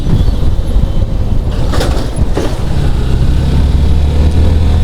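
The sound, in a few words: vehicles driving past on a village road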